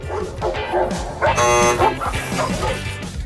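A police dog barks and yips amid a busy background with voices, the barking loud and close for a moment.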